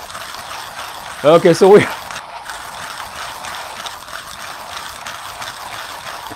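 A manual hand coffee grinder cranking through coffee beans, heard as a short burst of close ratcheting clicks against ongoing background talk.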